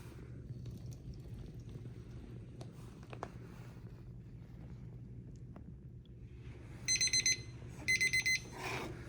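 A timer alarm goes off during a soil water-retention experiment after a faint, quiet stretch, sounding in two short bursts of rapid electronic beeping close by, with no talk.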